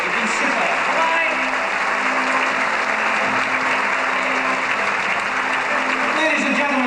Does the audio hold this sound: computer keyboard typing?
no